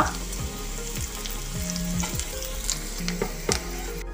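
Chopped green chili and curry leaves sizzle loudly in hot oil for a Kerala kappa and egg dish, a steady close frying crackle with stirring scrapes throughout.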